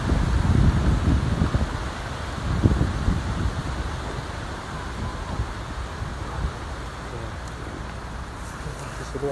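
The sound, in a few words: strong wind blowing through trees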